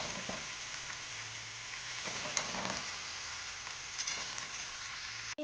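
Raw mango pieces lightly frying in oil for a mango pickle, a soft steady sizzle with faint stirring scrapes, fairly quiet and close.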